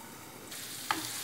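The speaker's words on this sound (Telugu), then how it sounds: "తిరగమూతకి ఒక మూకుడు పెట్టేసుకుందాం. పెట్టి ఆయిల్ వేసుకుందాం." Cooking oil sizzles in a pan heated for tempering while making ridge gourd and sesame chutney. A soft, steady hiss rises midway, then a single brief crackling pop follows near the end, close and fairly quiet, with no talking.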